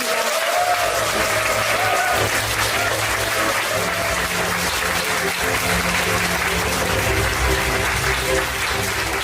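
Steady, dense audience applause in a hall at an opening ceremony following an author's lecture, loud and continuous throughout.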